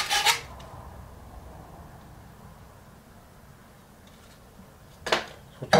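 A copper plumbing fitting being scuffed for soldering, a steady close rasping rub that runs throughout with sharper scraping strokes at the start and near the end, with no talk.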